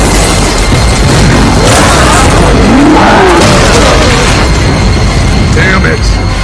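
Weapons firing in an anime battle scene, a loud, dense barrage of booming blasts and crashes running the whole time with a heavier burst near the middle, set among shouting voices and dramatic music.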